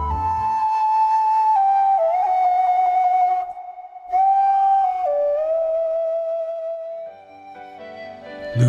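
A sustained, tonal referee whistle melody played in long held notes that shift pitch, loud and continuous with brief dips, forming a tune rather than short referee blasts.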